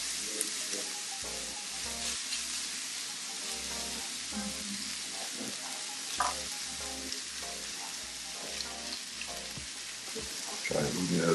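Steady sizzling from a frying pan cooking steak and eggs for a breakfast burrito, a moderate crackle with occasional utensil clinks and stirring sounds throughout.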